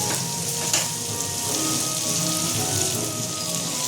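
Rice lightly frying in a pan in a home kitchen: an even, hissing sizzle with scattered pops and crackles, steady and close, with a faint hum of distant music behind it.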